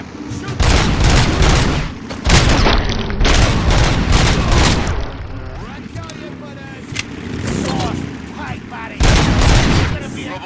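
Heavy gunfire erupts in a shootout in the video game RoboCop: Rogue City, with dense bursts of automatic fire and booms in loud waves, punctuated by short lulls, with shouted voices in the mix.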